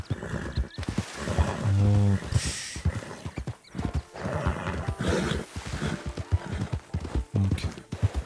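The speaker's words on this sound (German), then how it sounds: "Ja, das Pferd dreht durch." A horse in Red Dead Redemption 2 Online neighs loudly twice amid galloping hooves as it panics, with someone talking over the action.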